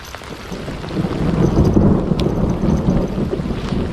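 A deep rumble of thunder rolls up and swells over steady, pattering rain in the woods at night, close and loud.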